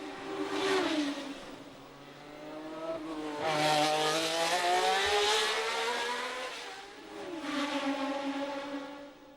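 A 1970 Formula 1 race car screams around the Monaco street circuit, its engine pitch rising and falling through three loud passes, revving hard between gear changes with no talking.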